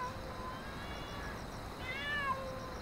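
A cat meows softly a couple of times late at night, faint and alone over a low background hiss.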